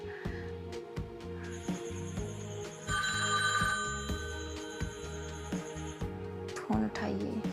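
A telephone rings unanswered late at night, repeated electronic ring tones running steadily through the whole stretch over a low background, with a brief vocal sound near the end.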